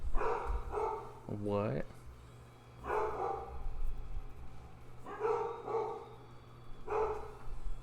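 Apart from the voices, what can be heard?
dogs barking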